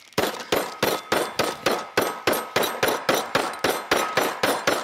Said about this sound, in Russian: И обычным молотком для мяса разобью его.